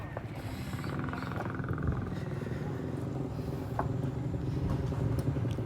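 Toyota 4K engine running steadily during a tune-up, a close, continuous low rumbling idle with slight unevenness throughout.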